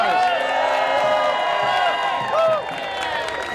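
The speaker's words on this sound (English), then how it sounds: "Can we give Randy and AFT a round of applause?" A large crowd at a political rally cheers and whoops with clapping mixed in, the roar staying loud and sustained before easing slightly toward the end.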